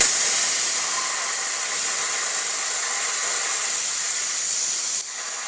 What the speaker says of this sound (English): Now I'm going to try some 1/4 inch thick mild steel, and I am still using the same straight edge so that I can get a straight and consistent cut.